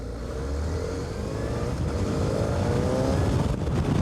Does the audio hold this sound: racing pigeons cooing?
no